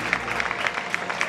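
Crowd at the 2013 IPC Athletics World Championships in Lyon applauds and cheers a fallen athlete who waves that he is all right, a steady patter of clapping from a distant stadium audience.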